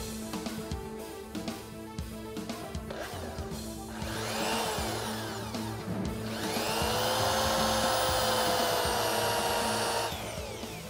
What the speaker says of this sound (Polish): W momencie, kiedy będę wiercił, nie będę mówił.